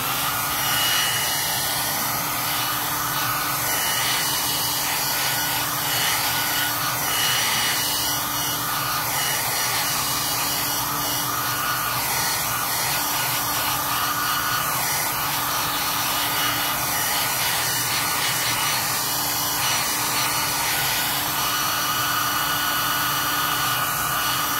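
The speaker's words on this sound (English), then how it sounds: "Dry that with a hair dryer" A hair dryer runs steadily and loudly for the whole stretch, a constant broadband whir used to dry a piece of artwork at an artists' market, with no talk over it.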